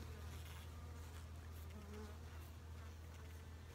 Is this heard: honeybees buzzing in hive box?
yes